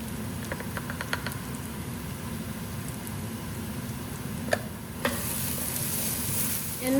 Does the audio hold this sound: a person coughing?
no